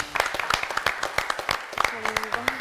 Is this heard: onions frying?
no